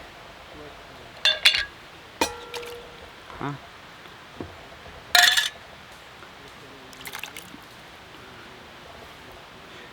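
Glass jars of canned apples clink and are emptied at a campground, giving several sharp close clinks and brief liquid glugs spaced apart, with a short spoken word.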